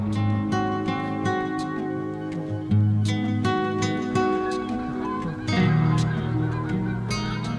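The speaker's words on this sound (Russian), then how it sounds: "наши гуси так и пережили здесь зиму" Geese honk repeatedly and loudly close by, a busy overlapping chorus of calls with a few bursts louder than the rest.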